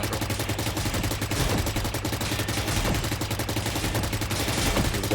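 Rapid automatic gunfire from a Rainbow Six Siege match rattles in dense sustained bursts, steady and loud throughout with no talk over it.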